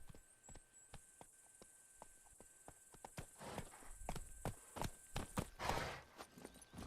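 In The Witcher 3, a horse's hooves clop in a quickening rhythm that builds into a louder gallop, over faint crickets and outdoor ambience, with no talk.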